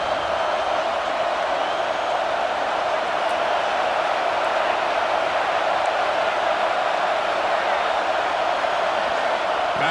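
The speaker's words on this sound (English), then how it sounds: "Listen to the crowd energy here in the early going." Steady, broad roar of a packed stadium crowd in the video game EA Sports College Football 26, constant and unbroken throughout with no distinct peaks.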